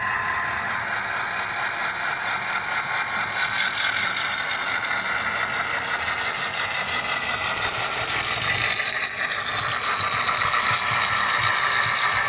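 A Rapido FL9 model locomotive throttles up and moves forward with a steady, moderately loud engine drone whose pitch and volume climb partway through, heard on its own.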